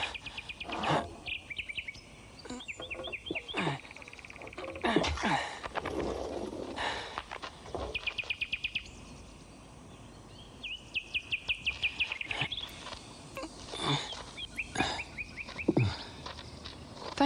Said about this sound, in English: Thank you, Bird. It's very kind of you to come and sing to me.